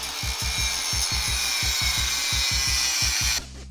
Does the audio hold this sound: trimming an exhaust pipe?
yes